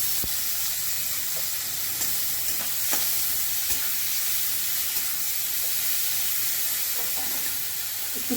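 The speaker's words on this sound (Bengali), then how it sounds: "আমি এর সঙ্গে চিংড়ি মাছগুলো দিয়ে দেবো, একসঙ্গে ভাজা হবে।" Prawns fry in a pan with taro stolons, turmeric and salt, giving a loud, continuous close-up sizzle broken by occasional scraping clicks of stirring.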